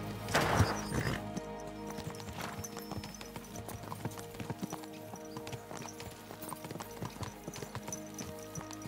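Horses' hooves clip-clop steadily in the video game Kingdom Come: Deliverance II, close and clear under a backdrop of medieval music, with a horse whinny near the start.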